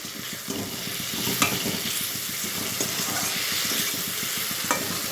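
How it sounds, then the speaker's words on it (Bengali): Split green chillies sizzle and fry steadily in a pan for a fish and mixed-vegetable chorchori with tomatoes, a constant close crackle broken by a few louder stirring scrapes, no voices. "এখন আমি এই যে কাঁচা লঙ্কা এগুলি আমি চিড়ে দিয়ে দিলাম"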